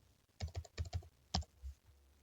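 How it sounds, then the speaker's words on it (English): A student ID and PIN are typed on a computer keyboard in about seven quick, light key clicks in two short bursts, close and quiet. "Then you type in your student ID"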